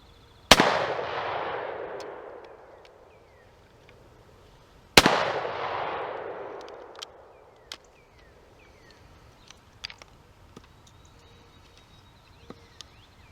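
Two loud shotgun blasts firing Remington shells about four seconds apart, each a sharp close crack followed by a long decaying outdoor echo, then faint scattered clicks and small knocks.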